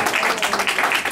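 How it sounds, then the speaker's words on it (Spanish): A church congregation at a Sunday retreat service claps for the Lord, a brief burst of fairly loud, dense applause with no voices over it. "Si ese aplauso es para el Señor, dáselo fuerte"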